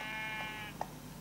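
Sheep bleating in the Minecraft video game, a few short, nasal bleats over a steady background tone, close and fairly clear.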